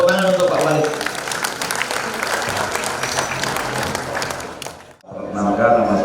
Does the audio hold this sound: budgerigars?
no